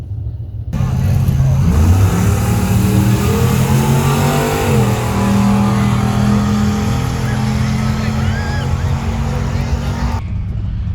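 A Mercury Marauder on an E85 tune makes a drag racing run down the track, its engine roaring loudly and climbing through several rising pulls with shifts, heard steadily from inside the car.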